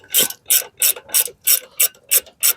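A ratchet tightens a brake caliper bolt on a 2020 Nissan Pathfinder AWD during a rear brake pad and rotor change, giving eight evenly spaced bursts of sharp clicking pawl noise, close and loud, with no talking.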